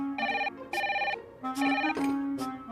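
A landline telephone rings in repeated electronic trilling bursts, loud and close, with short gaps between rings.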